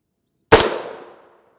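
A single sharp, loud gunshot cracks against a ShotStop Level IIIA armored clipboard, its report decaying over about a second in an otherwise silent space.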